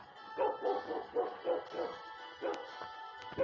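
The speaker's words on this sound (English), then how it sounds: "I'm just gonna keep walking into that barking dog." A nearby dog barks in a quick rhythmic run of about eight yips and bow-wows, pausing briefly before a few more sharp barks.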